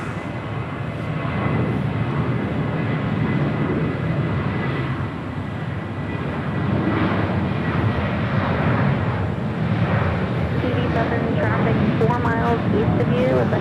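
A Boeing 787 Dreamliner jet roars steadily at Los Angeles International Airport, a loud broadband rumble holding throughout, with a voice talking over it.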